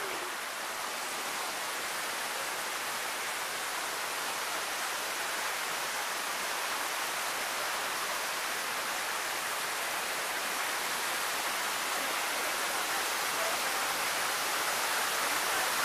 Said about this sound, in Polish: Kurde, nad wodospadem idziemy.